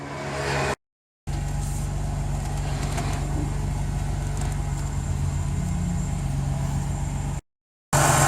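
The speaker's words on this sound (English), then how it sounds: "I'm going to start it up and go left and right with it now" A Ford BA XR6 on a hoist idles steadily after starting, a low continuous engine hum close by while the power steering is turned left and right, with two brief silent gaps.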